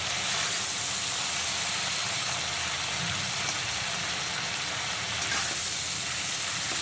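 Prawns frying lightly in hot oil give a steady, dense sizzling hiss that holds at even loudness throughout, with no talking.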